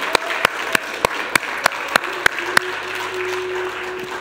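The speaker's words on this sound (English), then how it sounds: "Let's clap for them." About nine sharp, evenly spaced claps ring out in a church, steady and close, before the sound settles into a quieter room tone with a faint sustained hum.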